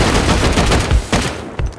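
Rapid, loud gunfire in a survival video game as a player shoots at a box, with a dense burst of overlapping shots and crackling impacts that stops abruptly near the end and leaves a few scattered pops.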